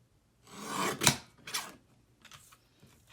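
A paper trimmer cuts stamped cardstock in two short rasping slides, the first with a sharp click. Fainter scraping and handling noises follow.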